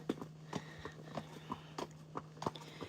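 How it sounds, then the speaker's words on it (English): A horse walking on a road during an early evening hack in Cartmel, its hooves clip-clopping in a steady, fairly close rhythm with no talk over them. "It is the back of a horse, not just any horse."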